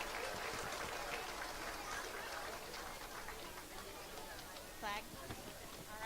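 Applause at an elementary school 5th grade celebration for the afternoon safety patrol students, a fairly faint, even patter of many hands clapping, heard from some distance with murmuring voices underneath.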